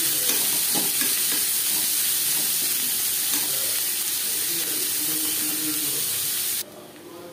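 Chopped onion and 7-8 garlic cloves frying in fresh oil in a kadai used for potatoes, for a chicken curry: a steady close sizzle with occasional stirring scrapes, continuous throughout before cutting off near the end.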